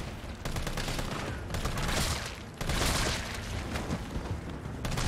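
Dense gunfire from shooting zombies in Resident Evil 3 Remake, a loud, nearly continuous burst of rapid shots with heavy booming impacts that runs the whole stretch and swells in places.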